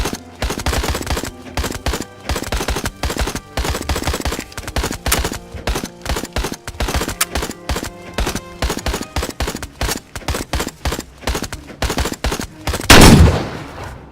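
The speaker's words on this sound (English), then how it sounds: "You've actually got to forward it, chamber it, and fire it." Gunfire in the VR shooting game Out of Ammo, a fast series of sharp bursts and single shots in quick succession, ending in a louder blast near the end.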